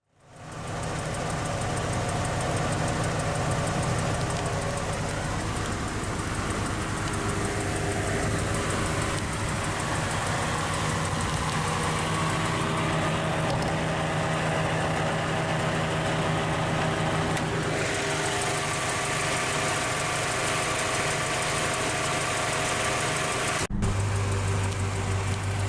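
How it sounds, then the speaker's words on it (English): A 1989 Honda Accord LXi coupe's A20A3 2-liter SOHC 12-valve naturally aspirated inline-4 idles steadily and close up, a constant low hum with no talk, briefly dipping near the end. "Powering the Accord LXi is the Accord's top engine for 1989, the A20A3 2-liter single overhead cam, 12-valve, naturally aspirated inline-4"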